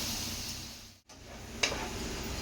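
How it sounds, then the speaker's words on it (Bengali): Egg chowmein ingredients being stirred with soy sauce in a hot pan give off a soft, continuous sizzle and scraping. It cuts out briefly midway, and a sharp utensil click follows. "এক চামচ দেবো সয়া সস, সবগুলোকে দিয়ে ভালো করে মিশিয়ে নেবো"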